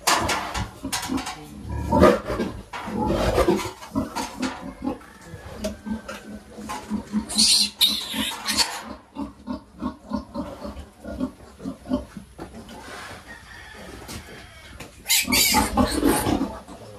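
Aggressive native pigs on a farm grunt and squeal loudly and repeatedly up close, with harsh bursts of rough noise and some voices in the background.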